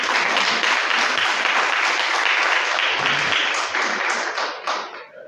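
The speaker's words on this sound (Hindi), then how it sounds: "आपकी भरपूर तालियों में" An audience claps warmly at an evening mushaira, an Urdu poetry recital, in Kabirwala: dense, sustained applause close by that thins and fades toward the end.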